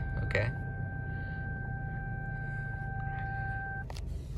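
A 2004 Pontiac Grand Prix GT sounds a steady electronic warning beep tone after starting, continuous for several seconds then cutting off, over the low hum of the idling engine.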